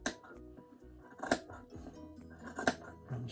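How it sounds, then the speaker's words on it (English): Scissors cutting fabric along a template for a mask hood, quiet snipping with two sharp distinct cuts amid soft rustling of material, close and alone. "I'm just going to start cutting"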